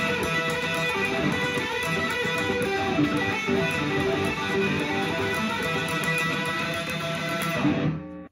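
Loud distorted electric guitar solo from a song, ad-libbed and continuous for several seconds with no talking.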